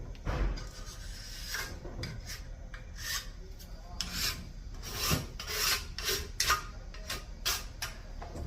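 Hand file rasping along the sharp edge of an engine block, a series of close, uneven scraping strokes with light clicks between them.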